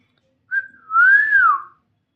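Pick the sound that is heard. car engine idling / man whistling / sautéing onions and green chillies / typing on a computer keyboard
man whistling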